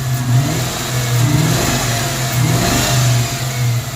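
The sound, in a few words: car engine revving on a 1994 convertible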